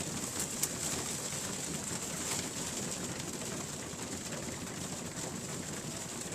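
A loft of young racing pigeons eats on the floor after a two-hour flight, producing a steady, dense murmur of cooing and scuffling with a constant background hiss.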